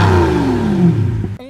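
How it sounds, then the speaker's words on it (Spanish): Pagani Zonda with a quad exhaust revs hard, a loud, close, continuous engine note that sweeps and then cuts off abruptly near the end. "Por supuesto, estos escapes también suenan bastante bien."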